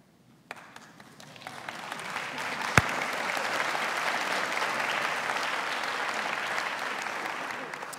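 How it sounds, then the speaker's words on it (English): A congregation at a Unity Temple service breaks into applause: a lone sharp clap, then clapping swells over a couple of seconds into a steady, dense round that holds to the end. "Yes, you can applaud yourselves."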